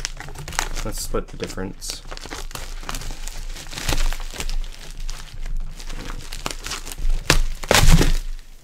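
Plastic packaging of a Koro Sensei figure is ripped and crinkled open in close, uneven bursts of crackling and tearing while someone talks.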